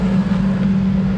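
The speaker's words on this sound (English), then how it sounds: "all right, I'm gonna wait for this traffic." Street traffic in Merida, Mexico, with a steady, loud engine drone from nearby vehicles passing by, holding an even level throughout with no voices.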